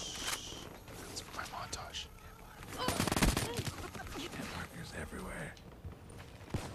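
Bursts of gunfire from shooting a robot in a Call of Duty match, including minigun fire, mixed with game effects and quiet player talk over the top.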